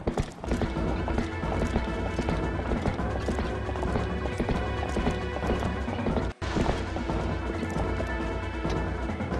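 Horse hooves gallop in the video game Twilight Princess HD, a steady, loud clip-clop rhythm with crashing game effects and music running continuously, broken by one brief drop near the end.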